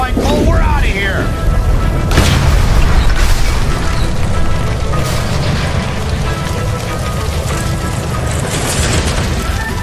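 A gas line explosion in the L.A. Noire video game, a heavy booming blast with crackling debris and rumbling fire that carry on loudly through the whole stretch, with game voices talking over it.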